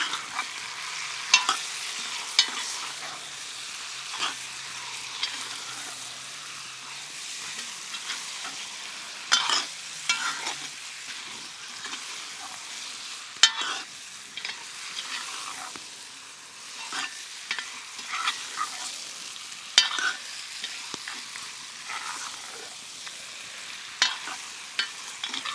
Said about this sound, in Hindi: मिलाकर 2 मिनट भूनते हैं।